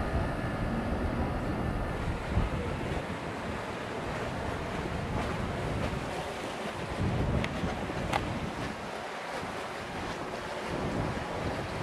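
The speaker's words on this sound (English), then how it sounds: "It's nice and breezy up here too." Steady breeze buffets the top of an old lighthouse on the shore of Lake Pontchartrain in New Orleans, with broadband wind rush and faint lapping water running continuously without any talk.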